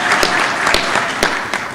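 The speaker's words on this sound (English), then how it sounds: "Can I request a round of applause?" Audience applause at a University of South Africa spring graduation ceremony held in Ethiopia, a steady wash of many hands clapping through the whole stretch, loud and dense, with a few sharper claps standing out now and then.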